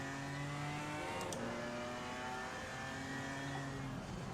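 A GT3 race car engine in a racing video game drones steadily throughout, its sustained engine tones shifting slightly as it holds speed, loud and continuous with no talking over it.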